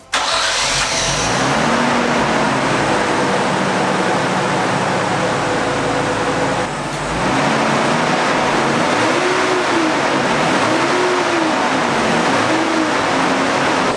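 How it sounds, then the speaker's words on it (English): A Nissan Skyline R32 GTS-t Type-M engine cranks and catches, then settles into a running idle with several rising and falling revs, loud and close. "we're gonna see if the car will start."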